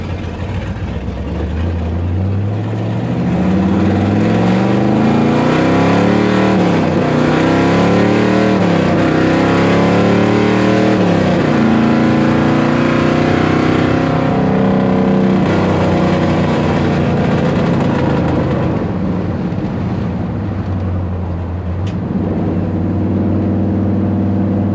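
A 1970 Chevrolet Nova Super Sport V8 with coolant leaks and intake problems, idling loudly and close up with a rough, lopey rumble that rises and falls slightly throughout.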